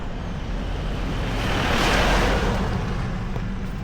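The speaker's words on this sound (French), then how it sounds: "c'est le camion poubelle qui passe faire le ramassage" A big garbage truck passes along a rural path, a broad rushing engine and road roar that swells to a peak midway and then eases, loud and continuous with no talk.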